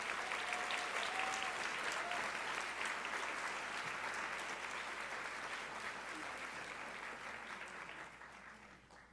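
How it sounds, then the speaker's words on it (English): An audience at a women achievers' award ceremony gives a sustained round of applause for an honoree, many hands clapping evenly and fairly faint, slowly tapering off near the end. "Please give me a warm congratulatory round of applause for Helen Drinan."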